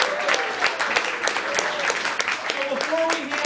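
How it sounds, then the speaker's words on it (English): A company group at an awards gathering gives itself a round of applause, a sustained crowd clapping at moderate level with a few voices and cheers mixed in. "Give yourself a round of applause"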